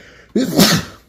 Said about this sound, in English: So, yeah, I'm about to sneeze.